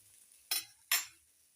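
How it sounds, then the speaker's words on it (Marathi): Onion roasting in a pan for a chicken curry masala, heard as two quick scraping stirs with a brief sizzle, each lasting a fraction of a second, close and fairly soft with quiet in between. "कांदा घेते आता मस्तपैकी भाजून"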